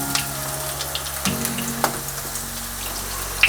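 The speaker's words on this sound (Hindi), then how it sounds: "दूसरी साइड भी हम अच्छे से क्रिस्पी और गोल्डन ब्राउन होने तक फ्राई कर लेंगे" Mixed vegetable pakoras deep fry in hot oil, a dense, continuous bubbling sizzle with occasional small pops and a soft clink, heard close and without speech.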